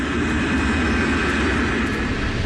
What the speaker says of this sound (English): Strangely, KLM's captain started his takeoff without permission while PanAm was still on the runway